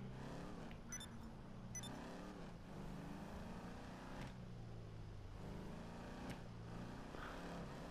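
A Vapid Dominator car rolls along slowly in GTA 5 Online, its engine a steady low rumble with gentle swells in pitch, continuous and fairly close throughout, with no talk over it.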